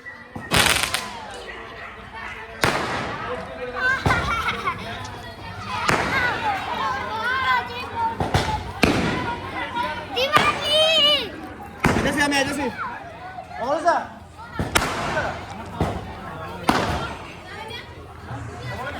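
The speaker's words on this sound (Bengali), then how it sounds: "দেখো কত বাজি ফোটানো হচ্ছে" Firecrackers go off in repeated sharp bangs and pops, irregularly spaced and fairly loud, as the groom arrives at a Bengali wedding, with people talking and a lively crowd throughout.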